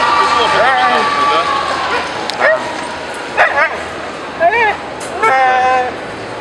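Sultan the dog barks, yips and whines at an unfamiliar dog, a close run of loud barks and whimpers over a steady background hum, with a voice scolding in between.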